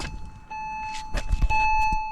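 A Porsche Boxster's door-open warning chime sounds as steady electronic tones, close and clear, with a pitch change midway and light clicks and handling noises around it.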